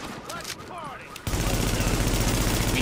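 Automatic gunfire from The Division video game, opening with game sounds and chirps before a sudden, sustained burst of rapid shots takes over, loud and close for the remaining seconds.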